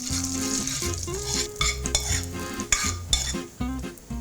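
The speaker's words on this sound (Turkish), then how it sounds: "Evet, bu şekilde karıştırıyorum." Red pepper flakes stirred in a sizzling pan, with a spoon scraping and clinking against the metal in irregular strokes over a steady close fry hiss, no voices.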